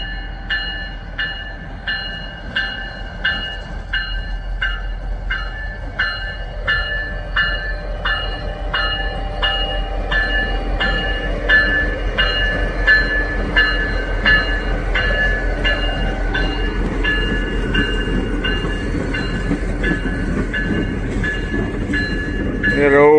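A freight train of boxcars rolls past at close range, the wheels beating a steady clickety-clack that builds into a continuous loud rumble.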